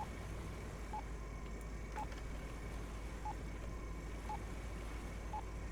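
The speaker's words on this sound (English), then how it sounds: "Definitely beeping faster now." Short electronic beeps sound at a steady, slightly quickening pace over a constant low engine drone in the video game Stormworks while a boat is steered near islands and a harbor, each beep brief and tonal.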